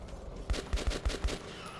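Rapid gunfire in the first-person shooter Metro 2033 Redux, a quick burst of five or six close, punchy shots in about a second, followed by a short fading tail.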